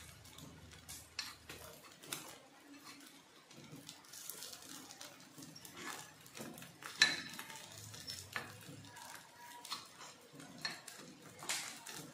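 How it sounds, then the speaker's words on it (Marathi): Bhagar sabudana appe being turned in an appe pan, with repeated clinks and scrapes of a utensil against metal over a faint sizzle of frying, each tap sharp and close. "ते परतून घेते पूर्ण आप्पे, दोन्ही साईड झाले पाहिजे छान"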